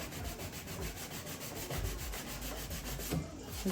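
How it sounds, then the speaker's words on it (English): Steady, rhythmic scrubbing strokes scour baked-on grease off a metal air-fryer oven, a continuous close-up abrasive rasp with no talking. "Let's just change the direction of the scrub."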